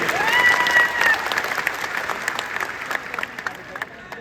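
A packed auditorium audience gives a warm welcome with loud applause that is strongest at first and gradually thins, with a few voices calling out over it.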